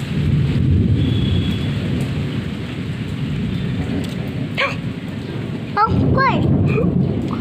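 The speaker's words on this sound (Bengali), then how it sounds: "কি জোরে জোরে মেঘ ডাকছে, বিদ্যুৎ চমকাচ্ছে।" Deep thunder rolls continuously beside steady rain falling over a vegetable garden, loud and close throughout, with a few brief voice-like sounds in the second half.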